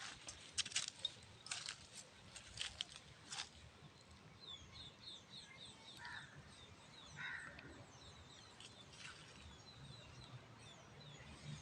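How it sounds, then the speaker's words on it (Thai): Faint outdoor ambience in a quiet Malaysian residential lane, with scattered bird chirps and a few distant crow caws over a soft background hiss. "ยังมีเสียงนกเสียงกาให้ร้องอยู่"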